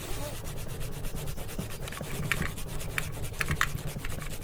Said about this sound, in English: I got a little scour pad here. We're just gonna clean up these brushes here